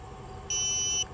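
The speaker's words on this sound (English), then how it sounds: "you'll hear that calibrate, that tone come from the audible alarm" A single steady high-pitched electronic beep from a HOBO MX1102 CO2 logger's calibration alarm sounds for about half a second over faint background hum.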